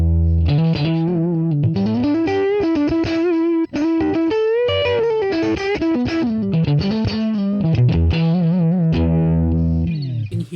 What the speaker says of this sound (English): Now, initially it sounds fuzzy. Now let's hear how thick sounds.